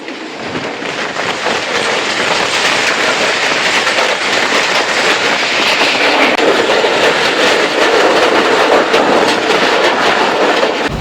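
The Awam Express rumbles along the rails on a foggy run, a loud, continuous roar with steady clickety-clack from the wheels, heard close from on board, with no voices.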